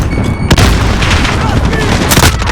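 A grenade blast in Call of Duty Modern Warfare during a Hardhat team deathmatch rolls into a loud, dense barrage of gunfire and booms, sustained and close.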